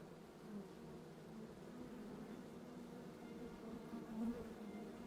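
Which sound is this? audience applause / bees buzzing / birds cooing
bees buzzing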